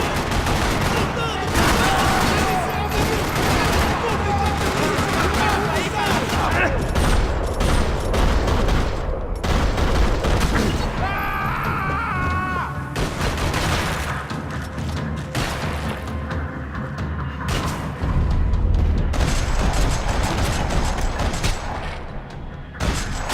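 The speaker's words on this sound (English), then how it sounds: "Another parking lot rattling with gunfire." Sustained bursts of game gunfire fill a parking lot shootout in Max Payne 3, with rattling automatic fire, heavy booming shots and crashes layered densely and loudly throughout, with a voice briefly audible in the mix.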